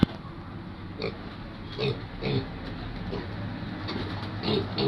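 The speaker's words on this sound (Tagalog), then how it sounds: "Iyakan na tong mga to." Piglets squeal in repeated bursts over steady background noise during weaning from the sow. Some faint bird cooing is also possible.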